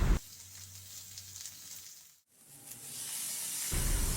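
Chopped onions and tomatoes fry in a pan for chutney, a soft steady sizzle and hiss that fades briefly in the middle before swelling back, quiet and without talk.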